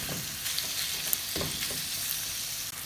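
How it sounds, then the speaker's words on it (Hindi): Minced beef keema fries on a tawa over a medium flame, giving a steady, fairly loud sizzle with faint stirring scrapes and no speech. "अब इसको हमने करना है फ्राई। फ्लेम हमने इसका मीडियम ही रखा हुआ है।"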